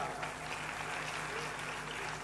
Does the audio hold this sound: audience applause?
yes